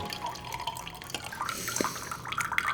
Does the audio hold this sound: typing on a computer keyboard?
no